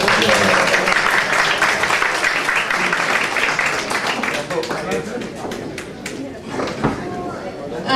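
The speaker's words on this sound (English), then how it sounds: "Can I get a round of applause?" An audience applauds a keynote speaker at an Afghan community education event, dense clapping at first that thins into scattered individual claps, with some voices in the room.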